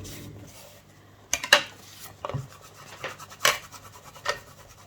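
Paper is rubbed flat by hand while a paper album is assembled, giving soft close scratching and rubbing strokes with a few sharper scrapes, quiet and unhurried with no talking.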